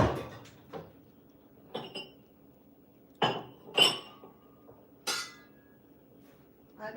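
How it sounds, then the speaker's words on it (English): Glassware and dishes clink in a kitchen as a drinking glass is fetched, with several sharp separate knocks and chinks spaced over a few seconds and quiet between them. "Let me get a bigger glass."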